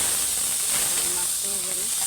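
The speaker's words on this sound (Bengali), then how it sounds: "মাছটা ঢেলে দিচ্ছি, তেলে হলুদ দেওয়া হয়ে গেছে।" Small fish tipped into hot oil already seasoned with turmeric give off a faint, steady sizzling hiss for a brief moment, with no speech.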